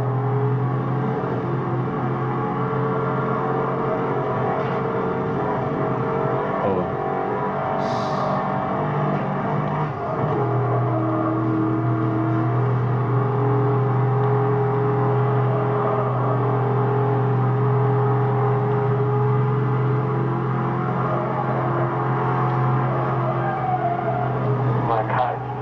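Car engine droning and revving steadily throughout a race in Need for Speed Hot Pursuit, a continuous loud hum with shifting pitch, a brief high whine partway through.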